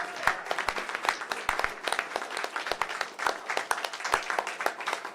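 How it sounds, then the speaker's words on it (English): Audience at a Bitcoin hackathon finalist event claps for the presenters, a lively burst of many hands with sharp individual claps standing out in a steady, moderately near patter, no talk over it. "Let's just get one more round of applause for everybody."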